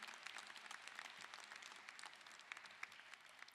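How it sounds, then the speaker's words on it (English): Graduating class at a commencement ceremony breaks into sustained applause, a dense steady patter of many hands clapping together with a few sharper claps standing out, with no talk over it. "Give yourselves a round of applause."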